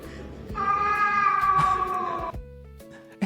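A cat gives one long, loud, drawn-out meow close to the mic, followed by a shorter higher squeak near the end. No one talks during it.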